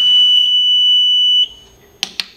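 A steady, piercing electronic tone sounds from a Uniview USS-SC100A-TM-O metal and temperature detection walk-through gate set to alarm duration 2, holding for about one and a half seconds and then stopping, followed by a couple of faint clicks.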